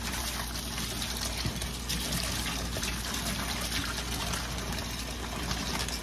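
Cold tap water runs steadily in a home kitchen while chicken Alfredo, tilapia and garlic bread are prepared, a continuous close trickle and splash with no talk over it.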